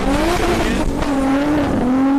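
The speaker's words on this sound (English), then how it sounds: "As you can hear from the engine noise, we have cars on the track" Drift car engines scream loudly on a race track during a wet, stormy drift series round, revving continuously with shifting pitch and a brief dip, close and dominant.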